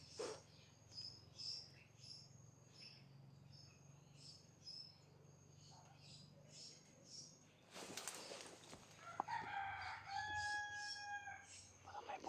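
A rooster crows a few times at a distance over a steady bed of chirping insects and birds, with a burst of rustling noise midway.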